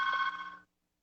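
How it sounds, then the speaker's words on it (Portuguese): A landline telephone rings once at home, a bright electronic ring tone lasting about two-thirds of a second and then cutting off to silence, fairly quiet and alone. "Não acredito, meu telefone está tocando."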